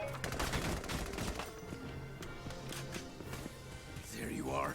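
Rifle gunfire in the video game Valkyria Chronicles 4, rapid shots over battlefield sounds, with voices talking over parts of it.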